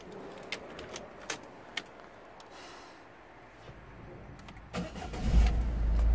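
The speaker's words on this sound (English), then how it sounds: "let's see if my engine starts okay." A car engine fitted with a freshly reprogrammed Bosch EDC17C10 ECU is started nearby. Faint clicks and key jingles come first, then the starter catches and the engine fires into a loud, rising idle.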